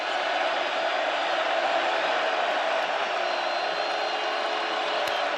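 Stadium crowd roaring steadily in NCAA Football 2025 during an FCS playoff game, South Dakota at Montana, a dense, distant wash of cheering that holds constant throughout.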